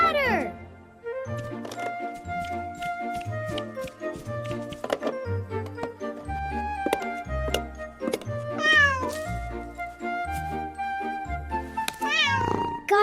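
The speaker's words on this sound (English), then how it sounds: "The kitty is stuck!" A toy-animated cat stuck up high meows repeatedly and loudly in a children's cartoon, its cries mixed with cheerful background music and bouncing tones.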